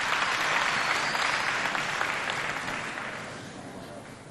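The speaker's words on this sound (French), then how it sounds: "Applaudissez pour elle" Applause from a launch ceremony audience rolls on steadily at moderate loudness, then gradually tapers off toward the end.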